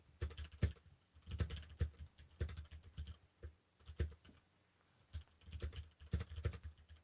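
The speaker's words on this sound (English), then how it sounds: "Hank, what are you typing so desperately? And so quickly" Rapid, close typing on a computer keyboard, with dense clusters of key clicks separated by brief pauses and no talking.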